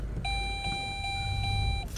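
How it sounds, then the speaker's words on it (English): A car's warning chime rings continuously, a steady high electronic tone pulsing in quick regular beats over low engine and cabin rumble. "don't understand why my car beeps so much."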